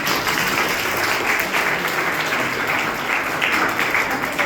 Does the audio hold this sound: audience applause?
yes